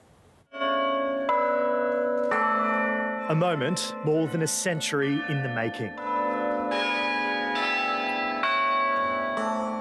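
Eight large cathedral bells in Parramatta ring in a sequence of loud, resonant tones, with overlapping peals clashing in the middle, while a voice talks over them.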